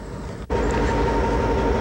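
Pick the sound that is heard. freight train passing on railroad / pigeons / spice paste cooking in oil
freight train passing on railroad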